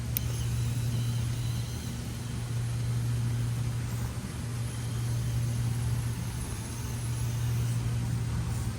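A Hobbywing QuicRun Mini 24 brushless motor drives a small RC car in a steady, continuous whine with a constant low hum, holding level throughout with no talking.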